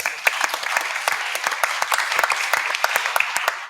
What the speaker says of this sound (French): Merci Alain Comely, on vous applaudit également.